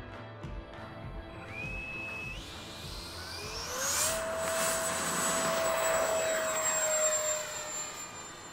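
An Xfly J65 twin EDF radio-controlled jet flies past, its ducted-fan whine rising in pitch and swelling in loudness as it nears, then holding a sustained high roar, with no talking.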